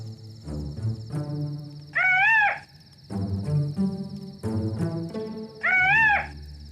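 A person twice imitates a bird call with the voice, making a warbling, rising-and-falling whistle-like cry that stands out loud and clear between stretches of talk.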